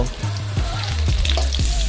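Chunks of potato and cauliflower sizzle hard in a hot wok, a loud continuous frying hiss with faint stirring knocks and no speech.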